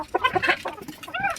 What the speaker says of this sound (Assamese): গোটেই মুৰ্গীবিলাকে পানীবিলাক ধুনীয়াকৈ খাবলৈ আৰম্ভ কৰিব